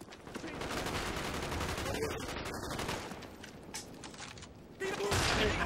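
Sniper rifle fire in a sniping-only Call of Duty Black Ops multiplayer match: a dense, sustained wash of crackling gunfire and game noise, ending in a louder, sharper burst near the close.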